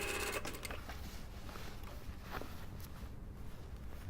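A sewing machine stitches a two-piece lined jacket sleeve into the armhole, running in a steady mechanical whir with a brief louder burst at the start and faint clicks throughout, with no talking.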